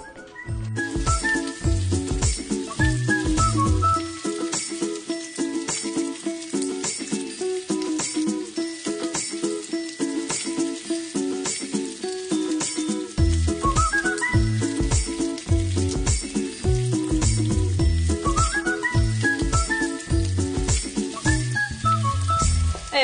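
Onions and tomato paste sizzle in butter for a Turkish pirpirim aşı dish, a continuous frying hiss with occasional clinks of a utensil against the pot, steady throughout.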